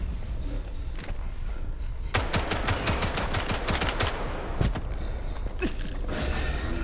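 A video-game shotgun fires in a rapid run of sharp, loud blasts over a steady rumbling background, followed by a few scattered shots and mechanical clunks, with no talking.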